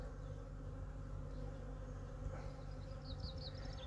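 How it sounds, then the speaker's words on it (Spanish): Swarm of honey bees buzzing around a hive, a dense steady drone close by with a few individual bees whining past, no voices. "Aquel enjambre está ya para meterlo en una colmena."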